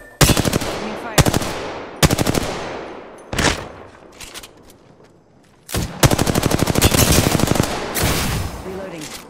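Enemy gunfire in Apex Legends rips out in loud rapid automatic bursts separated by brief pauses, with a longer sustained volley near the end.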